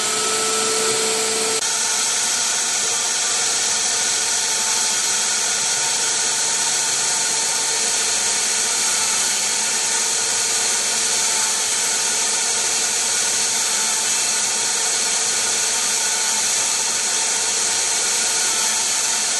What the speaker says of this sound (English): This process just continues through the whole range of drills